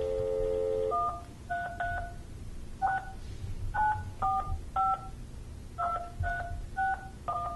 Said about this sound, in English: we're going to try to give him a call and let him know that he has won.